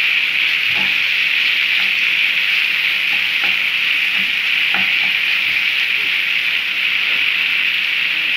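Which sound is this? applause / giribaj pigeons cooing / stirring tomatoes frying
stirring tomatoes frying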